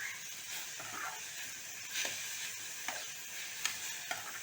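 Fenugreek leaves sizzle steadily in a hot pan while a spatula stirs and scrapes now and then, with a few sharper clicks near the end.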